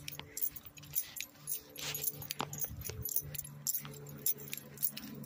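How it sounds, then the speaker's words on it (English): Keys jangle and rattle in an irregular, bright metallic rhythm while someone walks around the grounds of a historic home, with the sound fairly close and continuous. "My keys are rattling."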